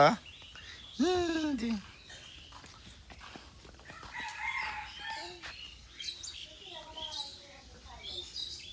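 A rooster crows once, loud and close, its drawn-out call rising then falling, while someone talks to small boys at home and birds chirp around them.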